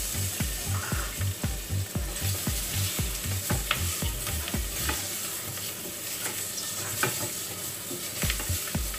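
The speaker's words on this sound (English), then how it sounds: "Chuck your potatoes in like so." Potatoes tossed into a pan with seasoning sizzle steadily, while a regular rhythmic scraping and stirring clatters close by through the first half before turning more scattered.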